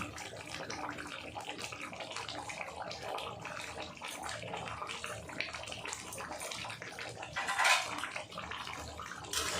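Mutton curry with potatoes is stirred in a pot, producing a steady wet churning and scraping with faint utensil clinks and one louder scrape near the end.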